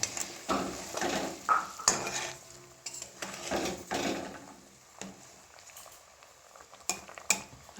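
Mustard and poppy seed paste being stirred in a pan on a gas stove for a Bengali shorshe ilish hilsa fish dish, with irregular scraping and clinking of a utensil against the pan, fairly close, with no talk.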